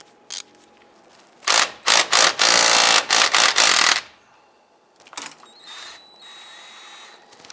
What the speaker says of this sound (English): we're going to use our 13mm socket